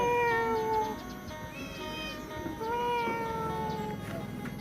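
A cat meows repeatedly in a rural Lao village at dusk, its rising and falling cries fairly close and clear over a low background murmur.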